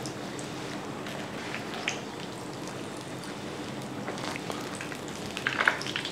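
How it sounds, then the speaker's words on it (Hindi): Chicken box patties fry in hot oil with a steady, soft crackling sizzle throughout, close by, with a few sharper pops near the end. "ये ज़रा पैटीज़ को फ्राई कर लो इस तरीके से"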